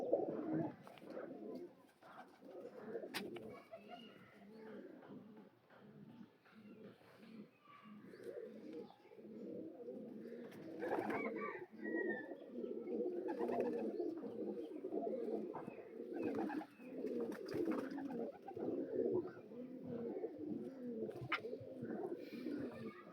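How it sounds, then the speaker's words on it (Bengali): A pair of old Kaldama pigeons at a home loft coo softly and repeatedly, low murmuring calls that carry on through the whole stretch, close by and quiet. "এক জোড়া কালদমা পেয়ার দেখুন"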